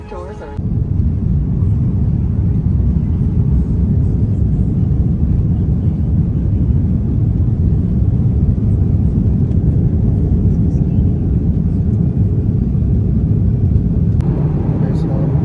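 An airliner taxis toward the runway for takeoff on a Pakistan to UK flight, its engines giving a loud, steady low rumble that fills the cabin without a break.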